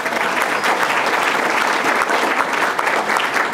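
A crowd at an Illinois social services panel event claps for a moderator: dense, loud, steady applause that continues evenly throughout.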